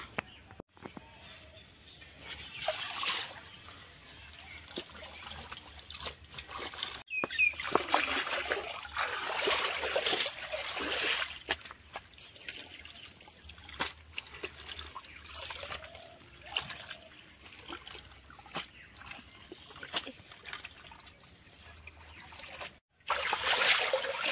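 Water trickling and splashing in bursts as Malabar spinach (pui shak) leaves are washed by a pond, with quiet gaps between the sloshes and a voice talking now and then.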